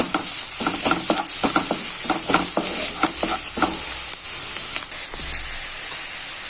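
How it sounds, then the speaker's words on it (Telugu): A spoon stirs turmeric into okra curry cooking in a pan, with a loud, continuous sizzle and a quick run of rhythmic scraping strokes against the pan. "ఇది కొంచెం మగ్గాక ఇందులో 1/2 టేబుల్ స్పూన్ పసుపు అయితే వేసుకోవాలండి. అంతా ఒకసారి కలుపుకోవాలి."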